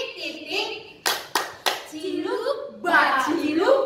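Children and a woman clapping hands in a 'tepuk titik' clapping game, three sharp close claps in quick succession between bursts of children chanting and talking.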